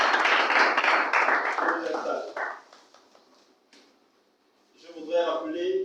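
Audience applause and cheering at an official association launch in Gabon, loud at first then fading into near silence before another burst of clapping and voices.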